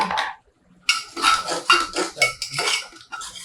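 A metal spoon stirs spices into yogurt in a steel vessel for a home-cooked biryani, scraping and clinking in several close, brisk strokes after a brief pause, with no talk.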